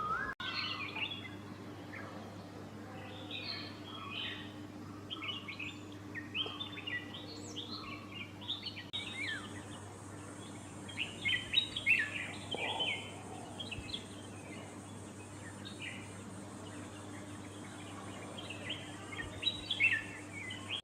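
Several birds call and chirp in a sunlit forest canopy, among them a golden-fronted leafbird; short bright calls repeat irregularly over a steady low hum, at moderate distance and fairly faint.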